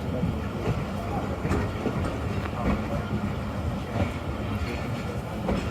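Shalimar Express passenger train passing slowly through Khanewal's complex rail yard, a continuous close rumble of wheels and carriages with soft clickety-clack under someone speaking.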